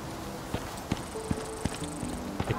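Horse hooves clip-clop on the ground in the survival video game Icarus, a steady series of distinct near hoofbeats, about six or seven evenly spaced strikes over quiet background.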